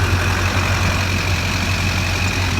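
A Duramax LB7 diesel engine in a pickup truck runs at a steady idle, giving off a continuous low rumble with a faint high whine, close to the microphone and with no talking.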